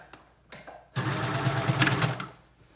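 Serger stitching a neck band seam on a Blake bomber jacket, a steady close whirring run of about a second and a half after brief handling noises, with no talking.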